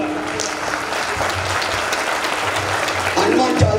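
A large gathering claps steadily and loudly together during a mass Hanuman Chalisa recitation organised by a Hindu group, the dense rhythmic applause filling the space with chanting voices mixed in.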